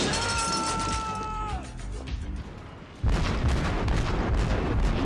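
The battleship New York blowing up nearby in a naval combat game, a sudden loud, deep booming blast that swells and rumbles on, preceded by quieter game sounds and tones.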